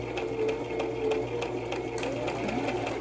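A sewing machine runs continuously across a fabric lanyard, a close, steady mechanical whir with faint rhythmic needle ticks throughout.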